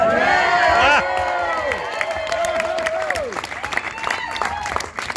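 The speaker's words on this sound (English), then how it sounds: "you're cheering because I understand that's quite a remarkable thing to do" Wedding reception guests cheering, whooping and applauding loudly all at once, a burst of overlapping shouts that eases into steady clapping and scattered calls.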